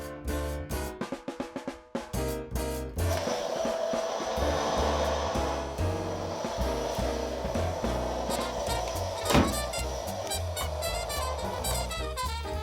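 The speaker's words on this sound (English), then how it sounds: "the sound of the hoover drowning out the TV" A vacuum cleaner runs during home housework with a TV on, a loud, steady whooshing drone that holds continuously after a few choppy bursts of sound at the start.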